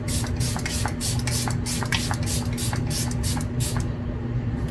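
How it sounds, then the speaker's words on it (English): Rapid, evenly spaced hissing puffs of a facial serum mist spray bottle, about a dozen in quick succession over a steady background hum. "It's a fancy snail spray."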